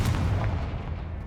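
A Confringo fire spell blasts in Hogwarts Legacy, a loud, booming burst with a heavy low rumble that fades away over about a second.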